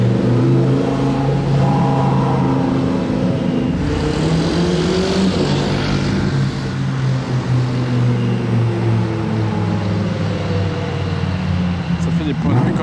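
Two Porsches, a GT3 RS and a Turbo, pass each other on a city street, their loud engine notes swelling and fading over steady traffic noise, with a voice talking during the pass.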